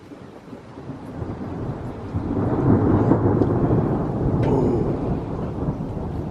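A thunderstorm rumbles outside a home, a low rolling swell of thunder building and lingering with rain hiss, loud and continuous across the stretch.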